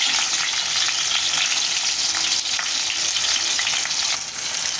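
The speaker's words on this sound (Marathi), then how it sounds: "आपले शिमला मिरची ना सगळे व्यवस्थित तळल्या गेलेल्या आहे" Stuffed capsicum frying in oil in a pan, a steady loud sizzle with occasional stirring and scraping, no voices.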